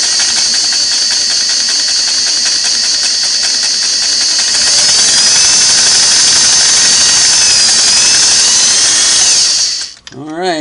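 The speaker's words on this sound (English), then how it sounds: "I want to see just how much power that motor has since I cleaned it up." The motor of a Sweetness 401A sewing machine whines at a loud, steady pitch while stitching leather, rising slightly midway, then stopping abruptly and spinning down near the end.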